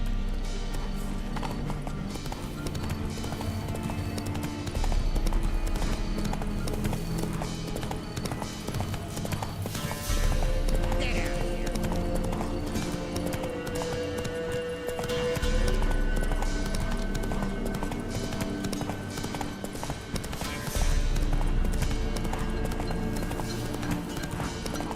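Roach the horse gallops in The Witcher 3, with rhythmic clip-clop hoofbeats repeating steadily across the whole stretch, loud and close, set against game ambience and occasional snorts.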